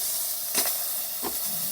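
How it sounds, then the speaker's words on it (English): A steady, loud steam hiss runs throughout, with two brief sputtering bursts, from a DeLonghi espresso machine's steam wand being tested after a full tune-up. "Steam is definitely working."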